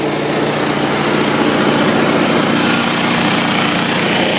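A power pack engine runs under load as its compressor engages, with cooling fans pulling air through, producing a loud, steady, dense drone that holds constant without a break.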